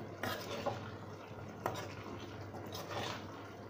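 A spoon stirs fried besan pieces into a curry masala in a pan, with soft scraping and a couple of light clinks against the metal over a low steady background hiss.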